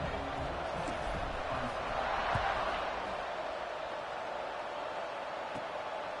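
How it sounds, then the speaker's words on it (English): Stadium crowd buzzing at a football game after a score, a dense, steady roar of many voices heard from within the stands. "this crowd is buzzing after that last score"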